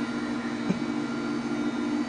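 A Snapmaker 3-in-1 3D printer runs right beside the microphone with a loud, steady mechanical hum, and a faint tick can be heard in the middle.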